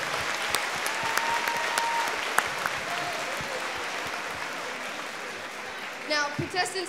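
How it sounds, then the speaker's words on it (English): An audience at a school district convocation gives a sustained round of applause for sponsors, broad steady clapping from a large crowd with a voice coming in over it near the end. "Let's give all of our sponsors a round of applause."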